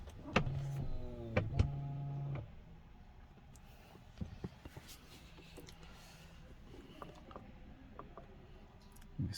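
A 2021 Land Rover SV Autobiography door's soft-close mechanism whirs and clicks, a short motorized hum with mechanical ticks, then quiet creaks and small clicks nearby.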